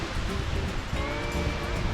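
Surf washes steadily onto Cas Abao Beach in Curaçao, a continuous close rush of breaking waves blended with wind noise.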